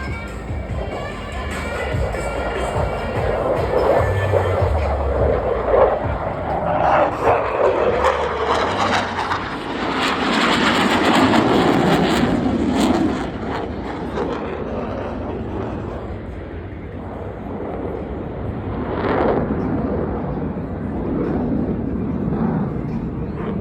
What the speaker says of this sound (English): watch as both pilots sustain 6 times the force of gravity to cross their aircraft over show center